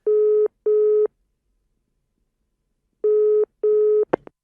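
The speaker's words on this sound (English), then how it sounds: "It's ringing for you now." A telephone ringback tone sounds in two pairs of steady, even beeps with a long gap between the pairs, as a call is put through to an office line, ending in a short click.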